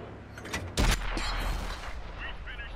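A tank cannon shot in the console game World of Tanks, firing from a Tiger 131: one sharp loud blast followed by a rumbling decay, with a player talking faintly around it.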